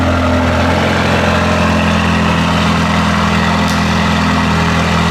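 A Mercedes-AMG GT Black Series V8 runs at a loud, steady idle, a deep continuous engine drone with a slight shift in tone partway through and no talking.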